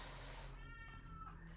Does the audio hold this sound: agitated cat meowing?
yes